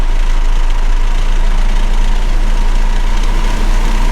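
A Toyota Supra at highway speed gives off a steady low resonant drone over constant road and engine hum, loud and unbroken throughout.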